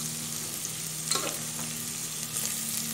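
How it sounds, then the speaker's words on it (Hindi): Cumin seeds fry in hot oil at the side of a pan for vegetable fried rice, a soft steady sizzle heard up close with a brief stirring scrape partway through. "जीरा को पहले हम हल्का सा फ्राई कर लेते हैं"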